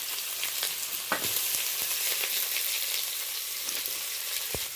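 Chopped onion frying in oil with nigella seeds, producing a continuous close sizzle with a few sharp pops and stirring scrapes, no talking.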